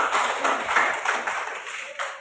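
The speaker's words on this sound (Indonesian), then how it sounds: "Tepuk tangan untuk Profesor." A classroom of primary school children claps together for their professor, a dense, steady patter of many small hands filling the room for a couple of seconds.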